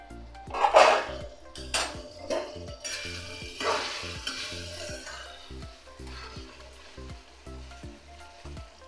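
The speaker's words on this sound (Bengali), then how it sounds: "আলু ঝিঙেটা ভাজা হয়ে গেছে পুঁটি মাছের জন্য।" Potato and ridge gourd fry in a pan for a puti fish curry, with a light sizzle and repeated scraping and clinking of a spatula against the pan, plus soft background music.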